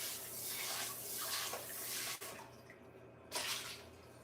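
Running tap water rinsing a big bowl, a close, steady gushing splash that swells and fades in waves, drops away briefly, then surges again.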